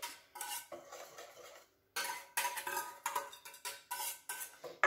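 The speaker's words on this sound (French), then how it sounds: "Et je vais mélanger avec le fromage blanc." Strawberry coulis being stirred into fromage blanc in a mixing bowl, a run of close clinking and scraping utensil strokes against the bowl in quick bursts, with a brief pause early on.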